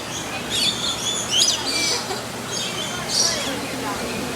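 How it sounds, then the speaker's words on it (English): Small red and green birds chirp and tweet in quick high bursts, fairly close, over a steady background hum, with people's voices murmuring faintly underneath. "Look at those pretty red and green birds."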